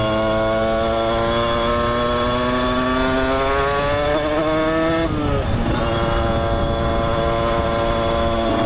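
A small 50cc two-stroke moped engine with a new exhaust and performance kit buzzes loudly and close, its high raspy pitch rising steadily, dipping briefly, then revving back up.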